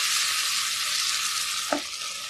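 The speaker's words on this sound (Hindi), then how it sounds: "अब हम इसके अंदर टमाटर ऐड करेंगे। टमाटर को हम गलने तक पकाएंगे।" Chopped tomatoes fry with lightly browned onions in a pan, a steady close sizzle that crackles throughout with one small stir-like knock, and nobody speaks.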